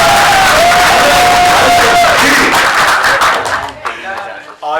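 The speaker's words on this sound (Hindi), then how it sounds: "आज इतनी प्यारी तालियां बजाएं" A theater workshop audience at a university in Faisalabad breaks into loud clapping and cheering, a dense crowd roar with whoops that stays strong, then drops off and flares again briefly at the end.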